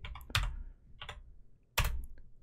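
Keys clatter on a computer keyboard in a few quick bursts of typing separated by short pauses, close and crisp with no other sound.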